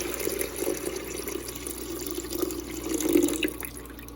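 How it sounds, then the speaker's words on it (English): Water is poured into the reservoir of a Frigidaire countertop ice maker, a soft, close splashing trickle that swells slightly near the end, with no talk. "just pour the water in."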